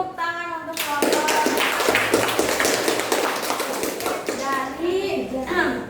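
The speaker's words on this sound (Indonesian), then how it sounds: "Oke, tepuk tangan untuk kelompok" A group of children in a classroom bursts into sustained clapping for a performing group, dense and steady throughout, with children's voices chattering at the start and end.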